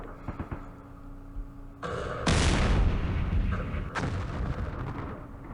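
Artillery barrages in the war strategy game Campaign Series Middle East, with heavy booms and rumbling bursts that swell into a loud, sustained roar of overlapping shell impacts, then stay dense and noisy to the end.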